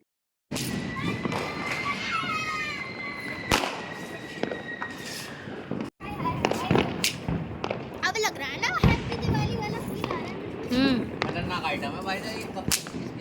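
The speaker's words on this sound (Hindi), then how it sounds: "अब चलते हैं जी ऊपर, जहाँ पे चल रही है आतिशबाजी।" Diwali fireworks crack and bang sharply at intervals, with whistling rockets rising and people talking in the background.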